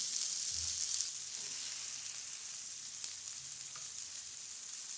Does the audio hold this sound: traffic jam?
no